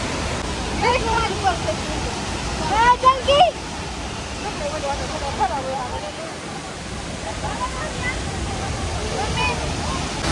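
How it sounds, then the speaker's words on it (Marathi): Constant roaring rush of a waterfall fills the clip, with brief voices talking over it in the middle. "वाव कसला धबधबा आहे"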